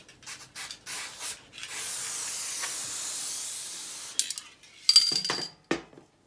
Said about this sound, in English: PTFE with, or spray grease with PTFE.